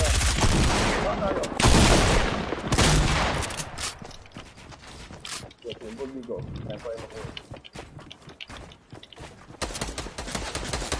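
A minigun fires in a video game as a dense, continuous rattle of rapid gunfire and explosions. Players talk excitedly over the din throughout.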